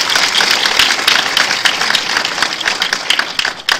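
A studio audience claps for a contestant on a Nigerian quiz show, with loud, dense, steady applause throughout before it thins slightly at the end.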